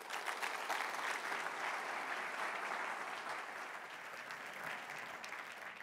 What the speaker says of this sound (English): I like the round of applause before we've done everything.